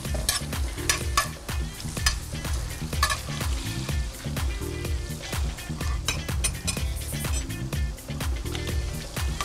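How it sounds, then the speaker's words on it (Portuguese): Onion frying in a thin drizzle of oil in a pan, a steady close sizzle with stirring scrapes and occasional clinks of a utensil throughout. "Aí eu vou acrescentar a cebola. Vamos deixar dar uma dourada nessa cebola."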